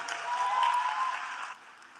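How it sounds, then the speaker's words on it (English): Applause from a graduation audience at a Detroit high school ceremony, moderate clapping that swells and then thins toward the end, heard at some distance in a large hall. "Let's give a round of applause for that."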